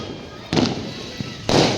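Firecrackers bursting during Karva Chauth celebrations in an Indian neighbourhood: two or three sharp broadband bangs, one brief and two longer crackling bursts, over a steady hum of distant background noise.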